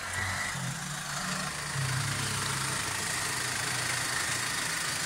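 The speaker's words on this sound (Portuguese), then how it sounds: "Vocês vão ver o funcionamento desse motor, pessoal. Olha o funcionamento." The diesel engine of a 2013 Mercedes-Benz Sprinter 515 CDI van idles steadily with a low, even rumble and a constant hum, continuous throughout with no voices.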